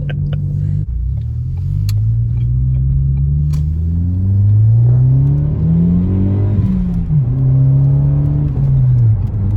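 A Ford Focus ST fitted with an MBRP exhaust accelerates through the gears, its engine droning and rising in pitch, dipping at each shift and climbing again, loud and close from inside the car.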